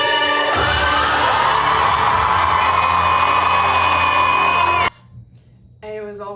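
A large crowd at a cosplay event roars with loud, sustained cheering and whooping during a costume reveal. The noise holds steady for several seconds, then cuts off abruptly, and quieter room sound and brief voices follow.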